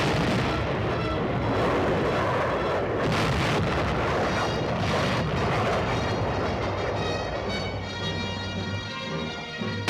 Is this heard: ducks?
no